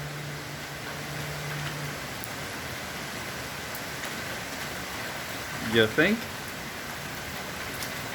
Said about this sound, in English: I think maybe it's raining.